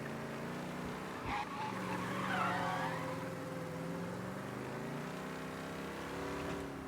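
Car driving in the video game Mafia, a steady engine drone running throughout with a brief skid or bump near the start and a swell in the middle, no speech over it.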